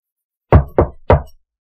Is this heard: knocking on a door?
yes